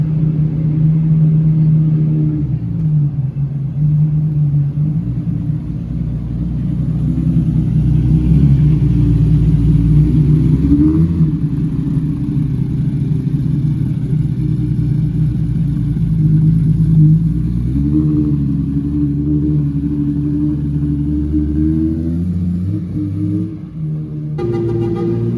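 A yellow Ferrari F50 drives away past a crowd at a car meet in Toronto, its engine a steady low rumble that rises and falls with shifts in revs, close and loud throughout.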